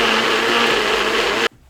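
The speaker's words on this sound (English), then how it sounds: "then you're gonna puree that thing up" A blender pureeing spices for gyro meat, a steady loud whirring motor drone that runs evenly then cuts off abruptly near the end.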